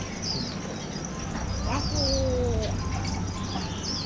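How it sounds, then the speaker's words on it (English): Pigeons coo among other birds at an outdoor bird garden, a few soft low coos and higher chirps over steady background hum and distant bustle. "Look at up in the trees. There's birds."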